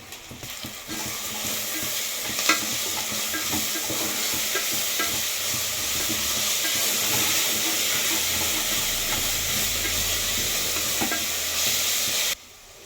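Ginger-garlic paste sautés with onion, mint and coriander in a pan for mutton biryani, giving a dense, even sizzle and hiss with occasional light stirring clicks, steady and close until it stops abruptly at the end.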